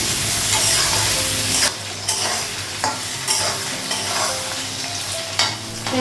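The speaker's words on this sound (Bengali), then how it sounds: "ভালো করে পেঁয়াজটা ভেজে নেব," Onions fry in a pan with a steady, close sizzle, broken by several scraping strokes as they are stirred, with no one talking.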